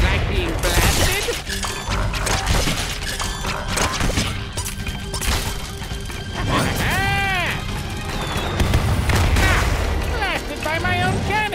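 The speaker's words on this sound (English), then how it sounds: "Don't like being blasted?" Cartoonish cannon blasts and crashes from Skylanders: Trap Team, with repeated booms and whooshing effects mixed among chirpy sound effects and game music throughout.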